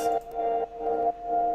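Three sustained piano chords through a vocoder play in sequence with a synthetic, buzzy timbre, each held about half a second with brief gaps.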